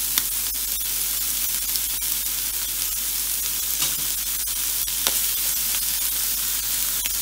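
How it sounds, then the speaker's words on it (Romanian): Pre-cooked chicken fries in a pan for a spicy homemade shawarma, giving a close, steady crackling sizzle with scattered sharp pops throughout and no talking. "Să pregătim puiul la tigaie."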